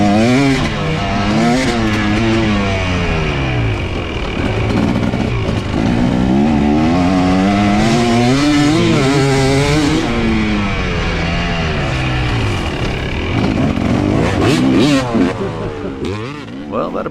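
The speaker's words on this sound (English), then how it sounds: "I can hear Lance coming" Another rider's motorcycle closes in from behind on a dirt trail, its engine loud and continuous, revving and rising and falling in pitch through corners, with no speech.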